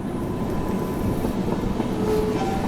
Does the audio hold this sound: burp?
no